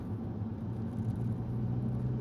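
An Alfa Romeo Brera 3.2 cruises along a road at the speed limit, heard from inside as a steady low engine and road rumble, even and moderately quiet, with no speech.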